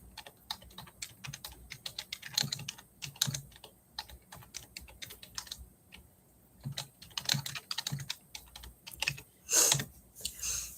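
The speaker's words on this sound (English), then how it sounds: "Oh, I can't type, sorry." Typing on a computer keyboard in bursts of quick, close clicking keystrokes with short pauses between.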